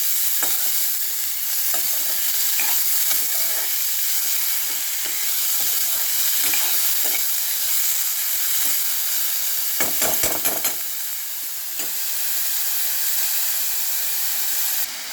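Chopped red amaranth stems frying in oil in a pan, a continuous bright sizzle with frequent spatula scrapes and stirring knocks, plus a brief burst of sharper clatter midway.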